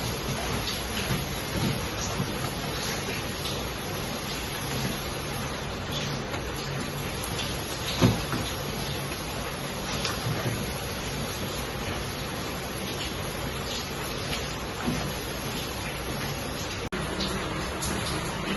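Steady rain falls outdoors with a low rumble of thunder in the background, one sharper crack near the middle, and a continuous hiss throughout with no one speaking.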